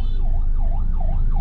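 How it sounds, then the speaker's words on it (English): An ambulance siren wails in a steady rising-and-falling pattern, with four smooth sweeps in a row, loud and continuous over low traffic rumble with no one talking. "Oh, ambulance."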